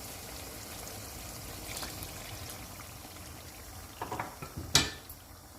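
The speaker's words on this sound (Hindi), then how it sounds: "अब इसमें मैं 2 गिलास पानी डाल रही हूँ।" Water is poured into kofta curry gravy in a cooking pot, a soft, continuous splashing stream heard close up, ending with a few clinks of metal against the pot.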